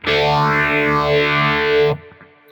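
A distorted electric guitar chord runs through a Quad Cortex modulation effect with the stereo width off, ringing loud and sustained for about two seconds before being cut, leaving a faint decaying tail.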